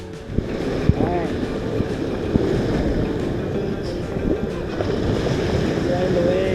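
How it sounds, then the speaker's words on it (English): Strong ocean waves crashing and surging during a spring break outing, a steady loud wash of surf with wind buffeting the microphone and occasional sharper splashes throughout. "The waves are hitting really strong."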